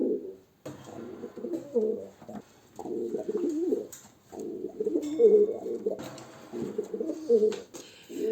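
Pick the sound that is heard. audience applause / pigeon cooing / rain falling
pigeon cooing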